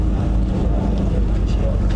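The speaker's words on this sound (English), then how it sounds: "Something's revving over here." A car engine rumbles low and steadily at an outdoor car meet with wrapped supercars, including a Lamborghini, Lamborghini Urus, Audi RS6 and Audi R8, loud and close, with wind and crowd noise around it.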